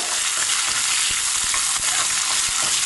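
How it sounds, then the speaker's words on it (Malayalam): Ginger and other chutney ingredients dry frying in a pan, a steady dense crackling sizzle with occasional stirring scrapes, close and continuous without speech. "ഇനി ഇതൊന്ന് നന്നായിട്ട് ഡ്രൈ ഫ്രൈ ആവണം"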